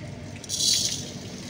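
Sugar pours into a kadai for a thin syrup while kachagolla sweets are being made. It comes as a brief soft rattling rush that peaks mid-clip, then settles into a faint hiss.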